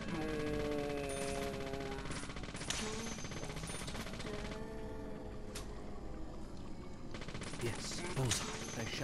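Gunshots striking a target in the video game Deadly Premonition, several sharp cracks and metallic clangs at irregular intervals over steady game music and ambience.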